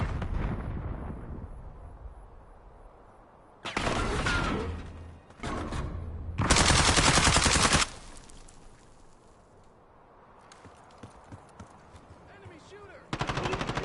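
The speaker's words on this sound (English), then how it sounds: "Deploying sentry turret." Automated sentry turret firing in the Black Ops shooter, loud bursts of rapid gunfire in several blocks with quieter stretches between, set against game ambience.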